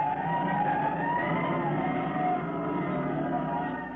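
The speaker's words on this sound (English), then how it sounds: "Tim Collins and the Upper Falls Fire Brigade are already on the way because fire has been reported at the schoolhouse on the hilltop" A fire engine siren used as a radio drama sound effect for a rural volunteer fire brigade racing to a schoolhouse fire, wailing loudly and steadily throughout with a slowly rising and falling pitch, no voices.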